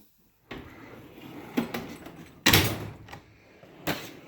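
A drawer slides open on a tool box holding sockets and screwdrivers, with metal scraping and rolling, sharp clunks, and a loud bang midway, all heard close up.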